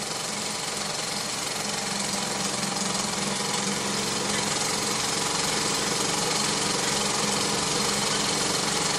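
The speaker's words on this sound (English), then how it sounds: "It's a modern engine, but it's built on the style of the old, very old Meccano one with the vertical boiler." A small modern model steam engine built in the old Meccano style with a vertical boiler runs with a fast, even mechanical chatter, steady and fairly quiet throughout, with no talk.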